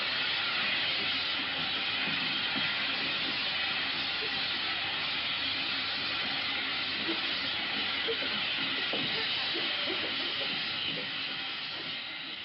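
Steam hisses in a steam room aboard a submarine in a 1943 film: a continuous, loud, close broadband hiss that holds steady the whole time over a low rumble.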